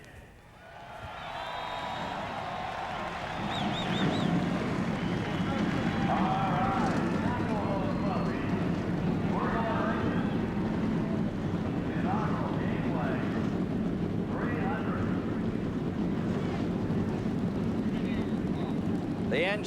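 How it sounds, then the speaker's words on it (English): NASCAR Busch Grand National stock car engines fire up together at the inaugural Gateway 300, building into a dense, sustained low roar after a quieter opening, with an announcer talking over it. "The engines have fired."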